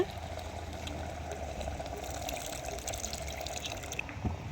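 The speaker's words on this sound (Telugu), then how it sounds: "ఇదిగోండి చింతపండు పులుసు వేస్తున్నానండి" Tamarind juice pours into a pot of simmering mutton bone curry, giving a quiet, steady liquid trickle and splash over the soft bubbling of the boil, with no talking.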